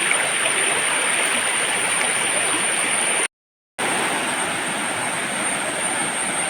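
Stream water rushing past a fallen tree beside a plantation, a constant close, full-bodied wash of flowing water that cuts out to silence for about half a second before resuming unchanged.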